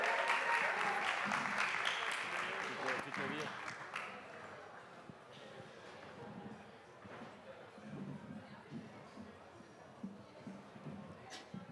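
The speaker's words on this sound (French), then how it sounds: "On peut applaudir" Audience applause at a French youth rights event as a guest is invited on stage, dense clapping loud at first then thinning and fading after a few seconds into scattered claps and murmuring voices.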